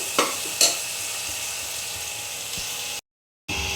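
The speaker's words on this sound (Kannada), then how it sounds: "ಇದನ್ನು ಇವಾಗ ಸ್ವಲ್ಪ ಫ್ರೈ ಆಗಲಿ ನೀಟಾಗಿ" Mushroom biryani mixture sizzles in a frying pan with a steady close hiss, a couple of sharp stirring clinks near the start and a brief dropout of silence near the end.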